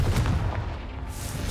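A Confringo spell blast from Hogwarts Legacy booms out as a heavy, sustained low rumble that fills the whole moment, loud and close with no voice over it.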